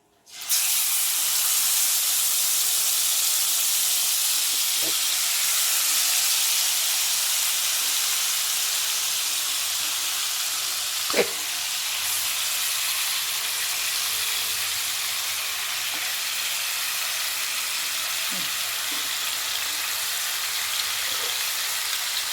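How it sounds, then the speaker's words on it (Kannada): Marinated fish drops into hot oil in a kadai and fries with a loud, steady hiss that runs unbroken for over twenty seconds, with a few faint clicks and pops along the way. "ಈಗ ಎಣ್ಣೆ ಕಾದೈತ್ರಿ ಅದ್ರೊಳಗೆ ನಾನು ಇದನ್ನು ಕಲಸಿಟ್ಕೊಂಡಿದ್ದ ಮೀನದ್ದು ಹಾಕ್ಕೊತೇನೆ ರೀ"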